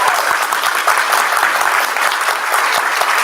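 An audience at a college honors banquet claps steadily for about three seconds: a dense, even wash of many hands with no voices over it.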